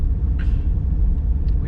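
A car idles and rolls up nearby in Transnistria, Moldova, a steady low engine rumble throughout with a brief hiss of air over it.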